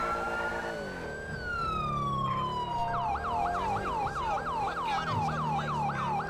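Police siren in GTA V LSPDFR during a code 3 response: a long rising-then-falling wail shifts into a fast, steady yelp cycling about twice per second, loud and close, with engine and traffic noise beneath and no talk.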